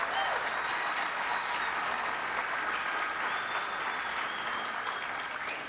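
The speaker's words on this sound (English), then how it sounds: "Felicia Martin, let's give her a giant round of applause." Steady, dense applause from a political convention crowd in a large hall, with faint voices and a few whistles mixed in at a constant level.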